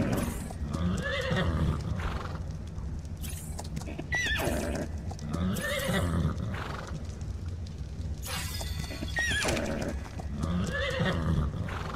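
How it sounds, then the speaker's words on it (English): A horse in the video game Ark Survival Evolved whinnies several times while its hooves clip-clop in a steady rhythm, loud and close throughout, with no talking. "I'm gonna take this horse."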